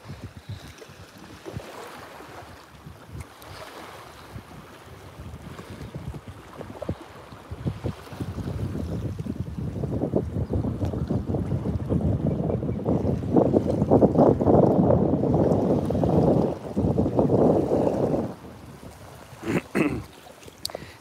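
Boat ride near Palm Beach, Koh Rong, Cambodia, with rumbling engine and water noise building steadily, wind buffeting the microphone throughout, loudest midway before dropping off near the end.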